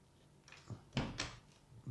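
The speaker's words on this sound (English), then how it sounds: "Locked door." A locked door in a small hostel apartment is tried, with a few quiet rattling knocks and clunks of the handle and frame in short bursts, close but faint.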